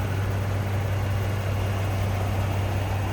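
Twin-turbo 3.5-liter V6 of a 2018 Ford F-150 Raptor idling smoothly, a steady low hum with no revving, close and unbroken throughout.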